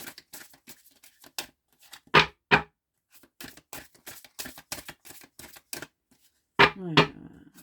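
Tarot-style cards are shuffled by hand for a card reading, giving a series of quick, sharp riffling flicks and slaps in irregular bursts, with a brief voice near the end.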